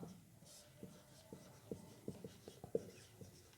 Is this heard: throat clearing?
no